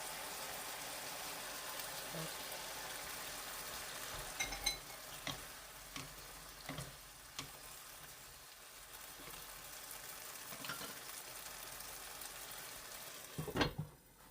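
Shishito peppers simmering in a seasoned sauce in a pan, a steady low sizzle and bubbling with a few light clicks and knocks, fairly quiet and close.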